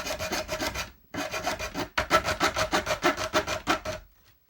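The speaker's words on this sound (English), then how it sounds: "So I just cut this with this saw on the edge of the workbench here." A hand saw cuts a board on the edge of a workbench with quick, rhythmic rasping strokes, close and fairly quiet. The strokes come in three bursts split by short pauses, then fade out at the end.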